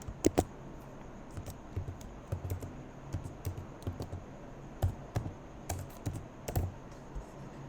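An email address is typed on a computer keyboard in a quiet room: irregular bursts of crisp key taps, some clustered and some spaced apart, with no talk.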